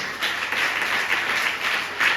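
A congregation at a family blessing prayer meeting clapping hands: a dense burst of applause from many people, steady and fairly loud, swelling slightly near the end.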